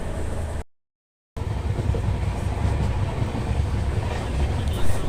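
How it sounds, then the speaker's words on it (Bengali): Passenger train travelling past Malda, with a steady low rumble and a broad wash of running noise throughout, broken by one brief dropout near the start. "এখন মালদার ওপর দিয়ে যাচ্ছে আমাদের ট্রেন।"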